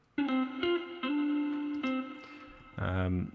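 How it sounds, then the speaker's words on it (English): A punchy tonal drum sample hit repeats several times with a short reverb tail smoothing each into the next, then a brighter, denser hit closes the passage. "just a little reverb will help it roll into the next hit"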